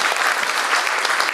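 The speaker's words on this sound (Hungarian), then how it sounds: "kérek neki egy nagy tapsot" A jazz concert audience at a Christmas show gives dense, sustained applause that stays even and full throughout, with no voices on top.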